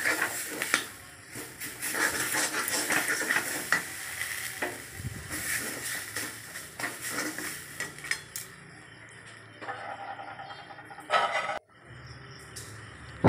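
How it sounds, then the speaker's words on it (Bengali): A spoon stirs spiced potato filling for kachori in a pan, with a steady scraping and clinking of utensil against metal over a soft sizzle that continues for several seconds, with occasional sharper knocks. "এবার ভালো করে নাড়াচাড়া করে নিলাম, মশলার সঙ্গে ভালো করে মিশিয়ে নিলাম"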